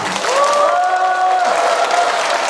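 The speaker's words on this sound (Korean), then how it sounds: "박수와 함성을 부탁드립니다." An audience at a rally in Changwon for a lawmaker's 2024 report meeting claps and cheers loudly and continuously, with a few raised voices ringing through the crowd noise for a couple of seconds.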